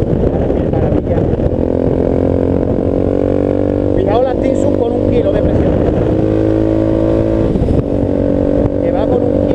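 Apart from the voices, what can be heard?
VOGE 300 Rally motorcycle riding off-road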